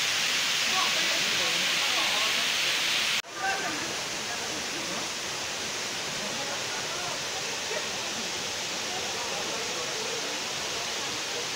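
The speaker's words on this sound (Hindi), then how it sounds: "झरने का पानी यानी ठंडा पानी।" A waterfall at Khuludi, Odisha roars as constant, dense rushing white water close by. A brief dip breaks the sound before it carries on, and speech is faintly present beneath it.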